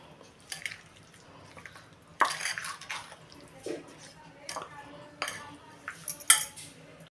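A spoon stirs homemade Maharashtrian-style lemon pickle with sugar, made without oil, producing scattered metallic clinks and scrapes against the container, some sharp and close, with quiet pauses between bursts.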